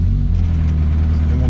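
Renault R8 Gordini engine pulling away after idling on a country road, a steady low rumble with a mild rise in pitch, heard up close from inside the car.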